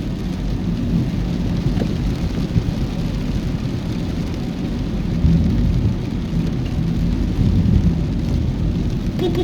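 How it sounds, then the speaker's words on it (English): Steady heavy rain with a low rumbling roar throughout, heard from a car driving through town, loud and continuous, no voices. "It's a rain drive"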